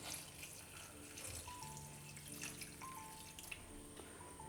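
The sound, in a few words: water being poured into curry pot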